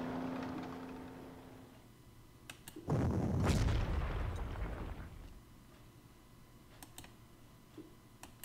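Artillery shot in the World War II strategy game Panzer Corps: a single deep, rumbling boom that swells and fades over about two seconds, with faint clicking before and after, all fairly quiet.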